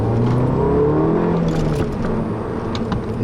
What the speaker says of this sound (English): You can hear that exhaust note.